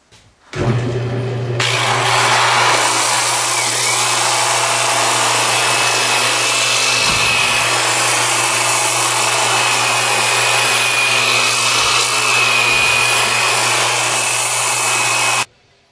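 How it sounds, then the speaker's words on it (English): A power sander runs steadily and loudly on the edge of a tulip wood moon-shaped rib, a continuous whine with a low motor hum that holds for about fifteen seconds, with a couple of brief dips as the tool shifts. "I'm going to finish the edge with a sander"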